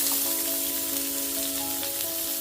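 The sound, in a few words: onions sizzling in hot oil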